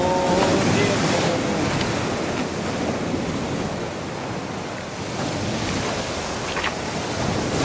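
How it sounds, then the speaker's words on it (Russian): Steady roar of ocean surf with waves breaking continuously, loud and close, with wind rushing across the microphone. "О, какие волны!"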